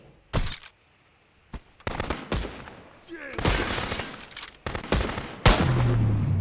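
Gunfire at smugglers in the video game Contraband Police comes as sharp single shots and short rapid bursts, loud and close, scattered irregularly across the stretch with quieter gaps between.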